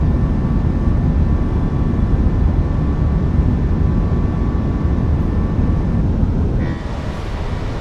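Steady, loud broadband roar of an airliner's engines climbing after takeoff in Microsoft Flight Simulator, a continuous cabin drone with faint steady tones, easing slightly near the end, with no voices.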